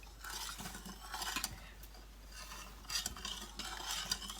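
Pickling liquid with red salt for pickled fiddlehead fern being stirred in a pot, a faint, steady swishing and scraping of a spoon repeating in bursts against a quiet background hum.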